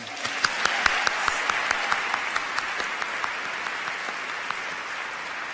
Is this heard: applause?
yes